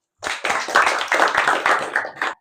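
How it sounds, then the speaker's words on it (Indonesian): A classroom of schoolchildren claps for a classmate, a short burst of quick, slightly uneven claps lasting about two seconds before stopping abruptly. "Tepuk tangan buat Putri."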